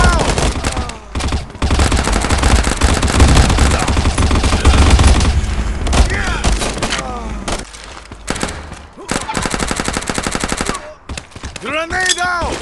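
Sustained gunfire and rapid automatic bursts with booming blasts from a Modern Ops free-for-all match at a train station or construction site, loud and dense throughout, with brief pauses and a few explosive thumps, a voice calling out at the end.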